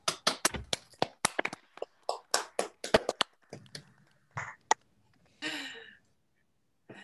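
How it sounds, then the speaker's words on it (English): Scattered claps of welcome from participants on open microphones during an online literature talk, a burst of uneven individual claps followed by a few isolated claps and brief noises, then near silence. "give an actual clap of welcome to Saul Zaritt and Amelia Glaser"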